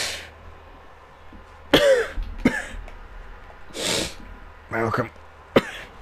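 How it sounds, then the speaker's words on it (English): Several harsh, wet coughs and throat-clearing bursts come from a nearby man in short spaced fits, with brief spoken words between them. "This ain't no average cough."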